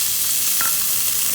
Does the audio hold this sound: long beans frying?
yes